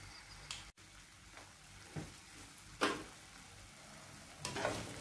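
Beef sautéing in ghee in a pan for a beef ghee roast, a faint steady sizzle broken by a few sharp scraping stirs and clinks at irregular intervals.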